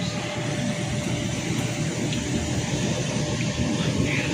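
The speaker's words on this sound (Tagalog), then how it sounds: "malakas yung aircon nila rito." A steady, even mechanical hum with a broad airy hiss, unchanging throughout, like an air conditioner running close by.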